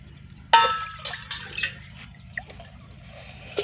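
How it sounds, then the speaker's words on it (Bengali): Water poured from a measuring cup into a pot for making tea, a splashing gush that starts abruptly then trickles and drips unevenly over a low steady hum, close up with no talking. "এই কাপটা মেপে মেপে আমি জল নিয়ে নেবো চায়ের"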